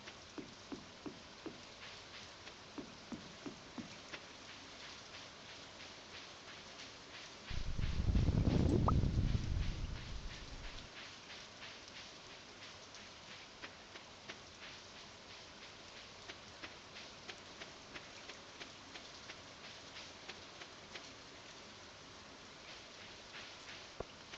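Continuous patter of rain in the video game Stardew Valley, with scattered drips and ticks, steady and moderately quiet, broken briefly by a low rumbling swell before the rain carries on.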